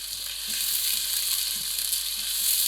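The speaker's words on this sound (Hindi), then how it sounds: "ये चम्मच हिलाकर हम इसको अच्छे से खोल लेंगे सारे प्याज को, ताकि ये इक्वली सारे का सारा फ्राई हो जाए" Onions frying in a pan and stirred with a spoon give a bright, constant hiss, with soft scraping strokes of the spoon repeating underneath, close and without any voices.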